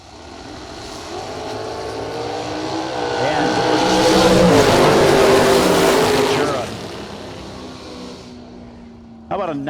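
A race car roars down a drag strip at a racing event, its engine whine swelling loud as it passes and then fading away, with a public-address voice faintly underneath.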